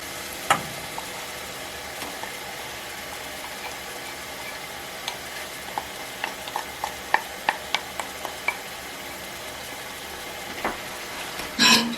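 A spoon stirs pasta sauce in a pot on a hot stove. Soft scraping clicks and taps come at an irregular pace, growing busier midway, over a low, steady background hiss.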